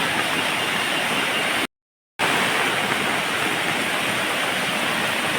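After a heavy downpour, floodwater rushes through an areca plantation in a dense, unbroken roar heard up close, cut by a brief dead-silent gap before the torrent resumes at full strength.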